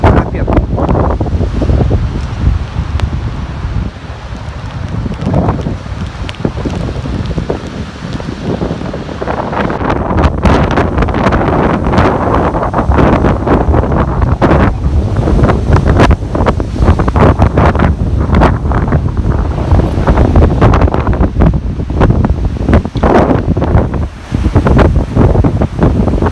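Squall winds batter the seaside at Kobuleti, roaring continuously and buffeting the microphone hard while surf crashes in beneath, loud and unbroken the whole time.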